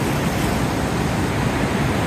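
Steady, dense rushing roar of Niagara Falls heard from very close, loud and continuous with no pauses.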